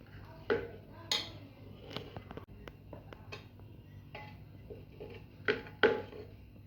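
Cooked potato and cluster bean curry is spooned into a bowl, with sparse metallic clinks and scrapes of a spoon against the pot in a quiet kitchen.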